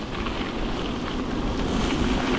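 Strong wind blows over a loch with whitecaps and buffets the microphone in a continuous, loud, low rumble. The roar surges slightly and no one speaks.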